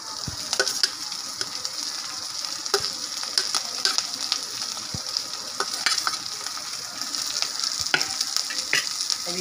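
Finely chopped capsicum and other vegetables sauté in a hot pan, giving a dense, continuous close sizzle broken by frequent sharp clicks and scrapes of stirring.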